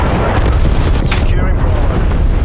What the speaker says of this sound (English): Napalm strike incoming.